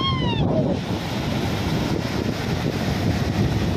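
Strong typhoon wind blows by the sea as a steady, loud roar with heavy microphone buffeting, sustained and unbroken throughout, with no speech over it.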